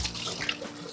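Onions are washed under a running kitchen tap, a brief close splash of flowing water lasting about a second.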